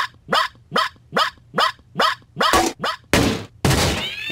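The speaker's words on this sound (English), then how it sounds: "Robo Puppy commencing 2-hour yipping session." Robo Puppy robot toy dog yips in a rapid, even series of about nine sharp electronic barks, followed by two harsher, noisier bursts at the end.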